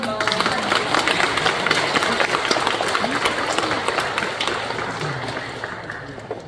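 A church congregation applauds a pastor at a women's mission society seminar: dense, steady clapping from a crowd that fills the whole stretch and slowly fades toward the end.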